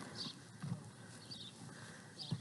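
Horse hooves clip-clopping at a ranch during team riding, a few soft separated hoof strikes at a slow walking pace, fairly quiet against light outdoor ambience with no talk.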